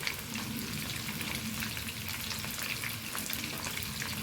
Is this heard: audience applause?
no